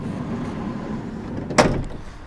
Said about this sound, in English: Tall sliding entry door.